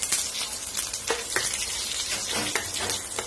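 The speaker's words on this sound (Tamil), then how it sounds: "கடுகும் வெந்தயமும் பொரிஞ்சிடுச்சு" Mustard seeds and fenugreek tempering in hot oil for a Kerala-style banana mor kuzhambu, a close, continuous sizzle with sharp crackling pops scattered throughout.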